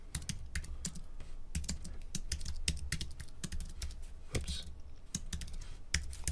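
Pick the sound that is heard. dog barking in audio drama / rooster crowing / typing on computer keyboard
typing on computer keyboard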